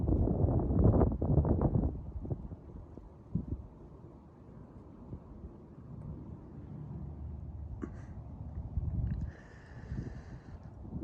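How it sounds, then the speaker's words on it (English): Wind blowing outdoors at Bob Ross's grave site on a cooling day, gusty buffeting noise on the microphone, loud at the start, then a softer, uneven rush with faint rustles. "It's definitely a little windy today."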